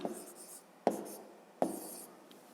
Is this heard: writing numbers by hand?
yes